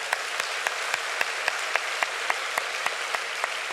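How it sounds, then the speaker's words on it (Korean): At a Friday night church worship service, a congregation applauds with a steady rhythmic pulse cutting through the dense clapping, full and continuous with no voices. "우리 유모차 부대들을 축복하며 박수하겠습니다"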